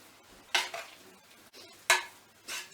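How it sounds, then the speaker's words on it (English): Flour and egg powder are stirred into mashed swede and potato in a bowl, giving two or three short scraping, clattering bursts of a utensil against the bowl with quiet gaps between. "flour and egg powder and give it a good mix up together"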